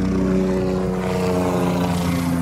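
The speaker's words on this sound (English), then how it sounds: "There goes our mosquito control helicopter." A mosquito control helicopter passes overhead at a beach, giving a loud, steady droning hum with a deep tonal buzz that stays constant throughout.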